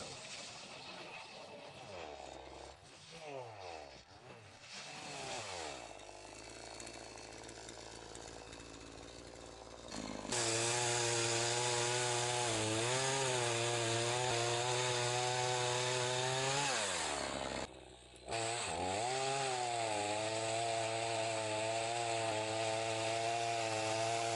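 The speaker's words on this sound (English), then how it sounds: "Champion chainsaw, 200 saw cuts." Champion chainsaw cutting through a tree trunk into logs outdoors in the taiga, a steady high engine whine under load with rising and falling revs, idling lower at first, then long continuous loud cuts with a brief pause near the end.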